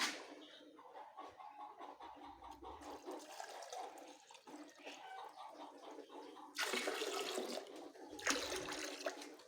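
Water splashes and trickles as it is poured into drinkers for baby layer chicks on a farm, in quiet bursts with louder pours near the end.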